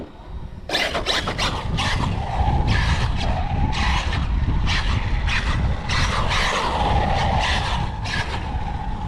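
Traxxas Maxx RC truck driving fast on tarmac, with a steady loud motor whine and tire noise that rises and falls through repeated skidding bursts, sustained and close throughout.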